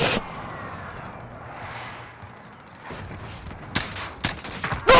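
Video-game gunfire aimed at a bike: after a stretch of low ambient rumble, a cluster of sharp, loud shots bursts out near the end, several cracks in quick irregular succession with no talk over them.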